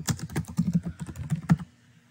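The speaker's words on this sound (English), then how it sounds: "You type in your full name." Typing on a computer keyboard: a quick, close run of crisp key presses in an irregular rhythm for about a second and a half, then stopping, with no talk.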